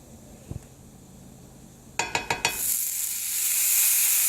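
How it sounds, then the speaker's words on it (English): Eggs fry in a buttered pan, starting with a few quick taps and cracks before a bright hiss of sizzling swells and holds steady, close and without talking. "after each egg that you cook, you will need to butter your pan or your eggs are going to stick"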